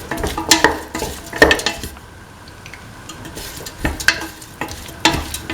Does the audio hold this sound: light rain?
no